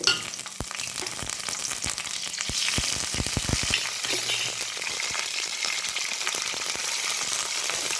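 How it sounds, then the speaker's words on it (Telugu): Mustard seeds, cumin and curry leaves hit hot oil with a loud, steady sizzle and crackle, sharp pops spattering through the first few seconds before settling into continuous frying hiss. "ఇప్పుడు ఆయిల్ కాగింది, ఆవాలు, జీలకర్ర, కరివేపాకు"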